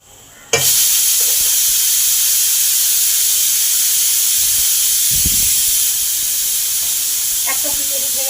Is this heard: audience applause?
no